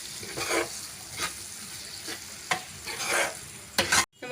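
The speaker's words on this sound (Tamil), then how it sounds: "நல்லா கலந்து விட்டுக்கோங்க." Ground masala is stirred into softened tomatoes frying in a pan for drumstick kara kuzhambu, giving a steady sizzle broken by several rhythmic scraping strokes, close and clear with no talk.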